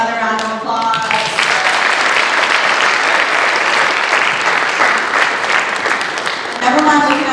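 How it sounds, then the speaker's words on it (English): An audience claps loudly for dancers at a university Hawaiian lūʻau, sustained, dense applause swelling across the hall, with brief voices at the start and end. "Give those beautiful girls another round of applause."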